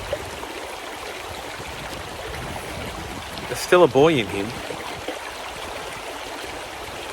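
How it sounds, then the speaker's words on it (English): River water flows steadily as a constant rushing wash, with a young man swimming in it, while someone briefly talks over the stream midway. "Tyler is like literally swimming in the river."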